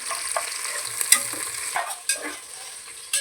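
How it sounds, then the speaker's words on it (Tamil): Onions sauté in a pan with cinnamon, cloves and curry leaves, making a close, crackling sizzle punctuated by several scrapes of a spoon stirring. "கருவேப்பிலையும் வெங்காயம் நல்லா கோல்டன் ப்ரௌன் ஆகிற வரைக்கும் நல்லா வதக்கிக்கலாம்."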